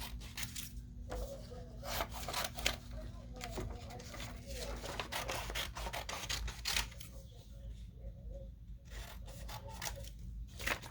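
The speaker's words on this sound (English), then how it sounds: "I'm just gonna cut my images." Scissors snipping through printed sublimation images, a string of quick crisp cuts and paper rustles at close range, with low room hum throughout.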